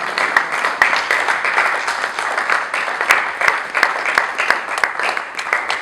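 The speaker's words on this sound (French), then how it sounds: "Sous vos acclamations, Papa Henri et tous les enfants passés devant." Guests at a 50th birthday celebration applaud warmly as family members are called forward. The clapping is steady and dense with sharp individual claps standing out, and there is no clear talk over it.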